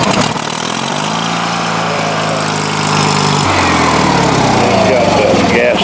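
A small tiller engine fires up and runs steadily close by, loud and buzzing like a lawn mower, its pitch shifting as it settles into a running rhythm.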